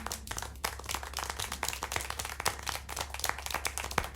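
Scattered video game hand clapping from several people, quick irregular claps throughout, moderately close over a low hum.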